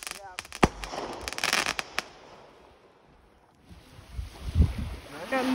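Fireworks going off outdoors on the 4th of July, a rapid series of sharp cracks and pops in the first two seconds, then quieter, with a few more bursts later and people talking nearby.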